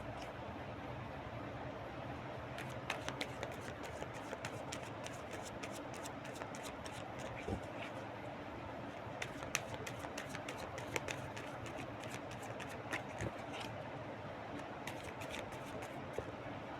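Tarot cards are shuffled by hand in repeated quick riffling bursts, close and crisp, over a soft steady background hiss.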